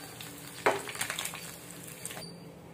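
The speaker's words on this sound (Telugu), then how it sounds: "ఇంకో ఫిష్ని కూడా ఇదే ప్రాసెస్లో లో ఫ్లేమ్ మీద ఫ్రై చేసుకుందాం" Fish frying in masala coating in a pan over a low flame, a steady soft sizzle with a brief louder crackle early on, continuing faintly then dropping to near quiet at the end.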